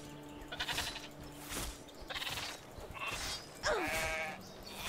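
Sheep in the video game Dark and Light bleat several times in short, wavering calls spread across a few seconds, fairly close and clear over faint game ambience.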